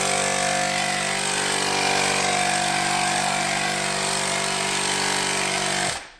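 An electric pump sprayer runs with a loud, steady motorized whine and hiss while spraying rinseless wash onto a car wheel, then cuts off abruptly near the end.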